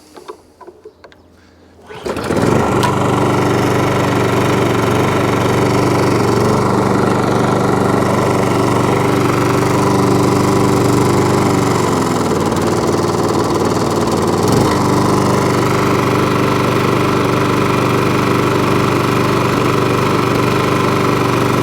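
A Toro lawnmower with a Briggs and Stratton engine starts after a brief quiet moment and then runs steadily and loudly, a constant droning engine note that holds nearly unchanged to the end, with no talk over it.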